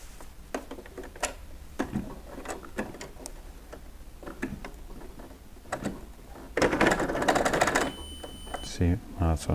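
A sewing machine slowly stitches ultralight tent fabric for a single-walled two-person duplex shelter, with scattered ticking needle strokes that build into a louder, denser run of mechanical chatter near the end, and a voice speaking between strokes.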